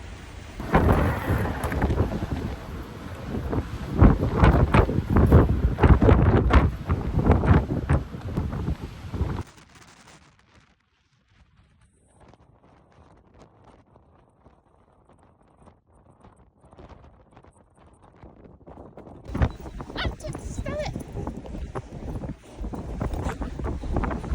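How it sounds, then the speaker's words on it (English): Strong wind storm buffeting a parked van in Portugal, loud roaring gusts and rumbling that drop to a near-quiet lull before the blasting returns, heavy and close against the vehicle. "I was leaning against the wind in this because it was so strong that I could lean forward and not fall"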